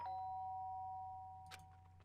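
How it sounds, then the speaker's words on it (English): A doorbell chimes in the Danganronpa video game, with clear sustained ding tones fading out over a low steady hum, then a brief soft rustle. "did I hear the doorbell?"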